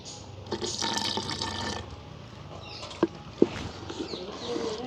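A small amount of water is poured into dosa batter with salt, giving a splashy trickle for a couple of seconds, followed by quieter stirring and a few distinct drips, close up in a village kitchen.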